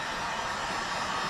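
A hair dryer blows over latex makeup to dry it, a steady close-up hiss of rushing air with no variation and no talking.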